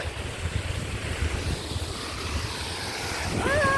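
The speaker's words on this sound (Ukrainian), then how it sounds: "Шумить водичка, красиво так." A river's steady rushing water roars continuously, a broad even wash of sound with low rumbling, near and fairly loud; a faint tonal whine appears at the end.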